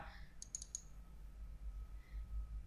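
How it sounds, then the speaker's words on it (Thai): A computer mouse is clicked during a software install, giving a quick cluster of sharp, light clicks near the start, then only a low background hum. "เดี๋ยวผมจะพาดับเ บิลคลิกครับ"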